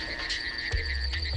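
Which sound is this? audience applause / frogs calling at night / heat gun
frogs calling at night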